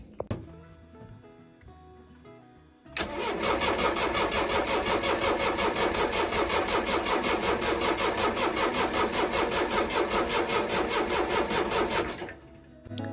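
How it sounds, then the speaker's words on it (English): After a quiet stretch, a boat's diesel engine catches abruptly and runs with a loud, steady, rapid chugging for several seconds, then cuts off. "Let's prime it and then let's start the engine."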